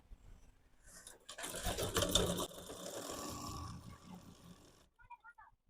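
Sewing machine stitching the mouth of a 7-inch-wide strip of langot cloth, a steady mechanical whirring run of about three seconds, close and moderately loud, that stops before a short quiet handling sound.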